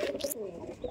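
Giribaz pigeons coo close by, a few low warbling calls mixed with brief higher rustles, with no talk.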